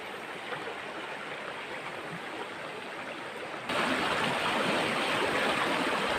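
The Mae Ngat river flows with a steady, broad rushing of water, close and unbroken, growing noticeably louder partway through.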